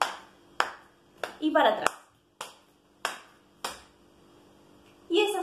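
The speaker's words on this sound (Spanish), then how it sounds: "vamos a marcar el ritmo de la canción con nuestras palmas" Hand claps marking the beat of a candombe song, a steady run of sharp, fairly close claps about every half to three-quarters of a second, with a voice speaking briefly over them.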